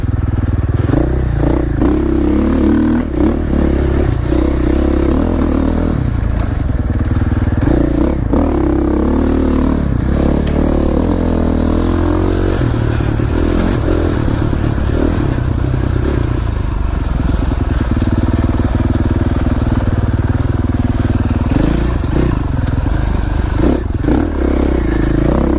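A motorcycle engine roars and revs continuously while the bike slides through corners, loud and close throughout, with clattering and scraping mixed into the steady drone.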